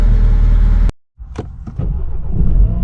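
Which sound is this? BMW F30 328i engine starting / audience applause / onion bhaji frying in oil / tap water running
BMW F30 328i engine starting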